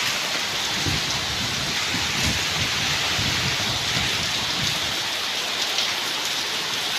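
Heavy monsoon rain pours nonstop in coastal Karnataka, a loud, dense and continuous downpour drumming on surfaces, with low rumbling gusts swelling beneath it.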